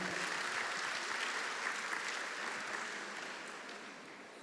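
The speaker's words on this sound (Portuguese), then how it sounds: "Uma salva de palmas, gente, para esse casal tão especial." An audience on a talk-show stage gives a couple steady, dense applause that carries on evenly for several seconds before easing off slightly at the end, moderately quiet and without voices.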